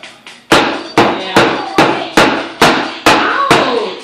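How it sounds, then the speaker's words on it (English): A table is struck hard about nine times in a steady rhythm, each loud, sharp bang close by and trailing off briefly before the next. "I'm hitting the table, not you."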